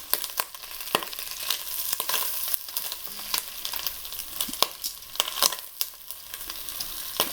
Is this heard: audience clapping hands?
no